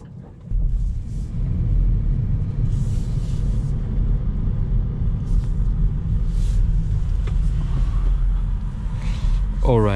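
A 2022 Kia Niro EV electric car driving, heard from inside as a steady, loud low road rumble and tyre noise that holds without a break.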